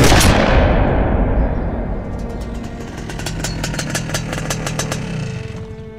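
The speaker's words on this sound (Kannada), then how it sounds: "ಗುಡ್ ಜಾಬ್ ಜೇಮ್, ಚೆನ್ನಾಗಿ ಬೈಕ್ ಓಡಿಸ್ತೀಯ ನೀನು" A motorcycle engine roars through an action-movie scene, starting loud and broadband, then a rapid run of sharp bursts and rattles layers over the continuing rumble, with no speech.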